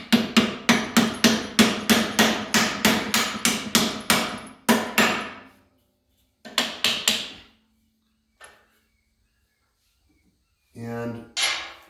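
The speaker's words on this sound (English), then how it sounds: "So I'm knocking the shackles out that are holding the spring on" Sharp, loud hammer blows ring out in a fast steady series, then a few spaced strikes, knocking the shackles off the front leaf spring of a Model A Speedster's front axle, with a voice briefly at the end.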